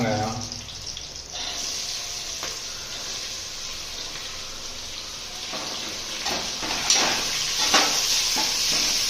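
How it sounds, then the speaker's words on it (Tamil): Onions sautéing in a pan for paneer biryani in a home kitchen, a loud steady sizzle with scraping stirs throughout, close up and continuous. "வெங்காயம், போட்டு நல்லா வதக்கிக்கணும்"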